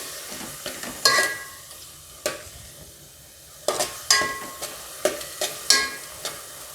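Vegetables and green peas being sautéed for a vegetable pulao, with a low frying sizzle broken by clattering spoon strokes against the pan, several sharp scrapes and knocks in an irregular rhythm, close up with no talking.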